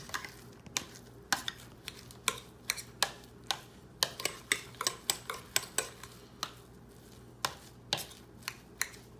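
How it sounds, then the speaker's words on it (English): Olive oil pops in a pan holding potatoes and garlic before lamb chunks go in, heard as quiet, irregular sharp crackles and ticks spread over a soft background hiss. "I hear our olive oil starting to pop"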